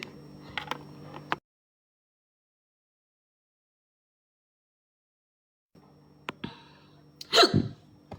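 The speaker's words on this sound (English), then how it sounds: "I'm burping consistently because I got comfortable into burping." After near silence, a short, throaty burp erupts close by, loud against faint background rustling.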